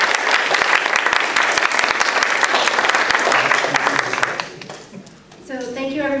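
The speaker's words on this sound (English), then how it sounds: "So can we have a round of applause?" Loud, dense applause from a forum audience at a state representative candidates event, sustained for about four seconds before fading out as a voice begins speaking.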